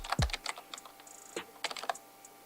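A computer keyboard is typed on in short, uneven bursts of quick, close clicks, fairly quiet, with a dull thump near the start and brief gaps between keystrokes.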